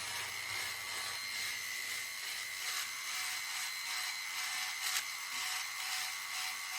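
A rotary ball bur textures a metal bezel around its full circumference, producing a steady high-pitched grinding whine with slight surges, close and continuous, with no talking.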